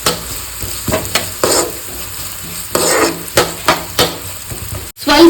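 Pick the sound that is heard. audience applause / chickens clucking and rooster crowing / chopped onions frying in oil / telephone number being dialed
chopped onions frying in oil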